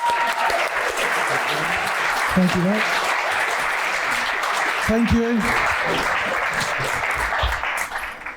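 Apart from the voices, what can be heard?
audience applause for the speakers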